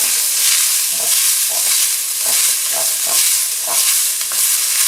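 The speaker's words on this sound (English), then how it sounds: "And the green pepper. We're going to stir it up." Green pepper and onions fry loudly in a pot while being stirred, a dense continuous sizzle broken by repeated scraping strokes of a spoon.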